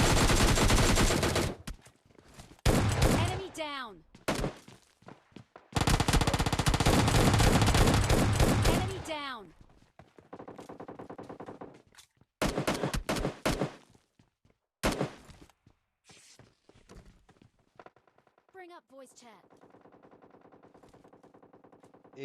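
S12K shotgun gunfire in the mobile shooter PUBG Mobile Lite: loud bursts of rapid shots in several clusters separated by short pauses, with lighter scattered shots later on.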